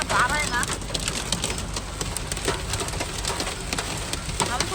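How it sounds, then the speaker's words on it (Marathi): A severe hailstorm drums on a car in a dense, continuous patter of hard hits, loud and close throughout, with people talking underneath. "गाडी बरोबर टप टप आवाज येऊ राहिलाय. बापरे बाप लय भयानक गारा आहे."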